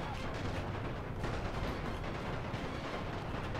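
Artillery fire in The Great War video game on a World War One Russian front, a dense, continuous rumble of booming shots and blasts blending into one another, moderately loud and unbroken.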